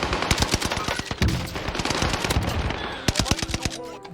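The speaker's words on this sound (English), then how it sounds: "I hip fire first, even with an assault rifle" Rapid assault rifle hip-fire in a video game gunfight, loud bursts of sharp shots in quick succession with brief pauses between volleys.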